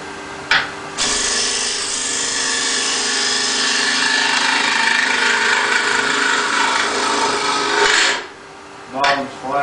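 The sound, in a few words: wood lathe tool flattening the bottom of a turned piece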